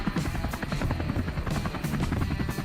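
Helicopter in flight during a wild boar hunt, a loud, steady rotor thump with rapid rhythmic chopping and a droning engine under it, continuous and close, no voices.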